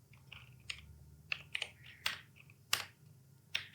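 C code is typed on a computer keyboard, with sparse, irregular key clicks, a few sharper taps standing out, close and quiet over a faint hum, with no speech.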